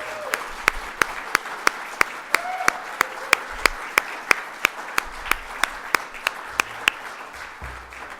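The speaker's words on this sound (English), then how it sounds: "if you would join me in a round of applause for Nicole and Ashley" Audience applause at an award ceremony for contributor of the year, heard as steady, evenly spaced claps ringing out one after another throughout, close and clear.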